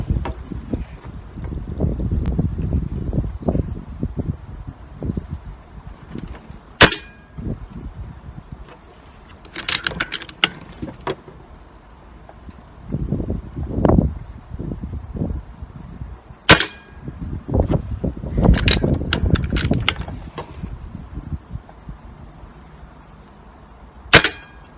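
An air rifle fires pellets loaded from a 3D-printed magazine, with about five sharp, short cracks spaced several seconds apart and bouts of rustling, handling and wind noise between shots.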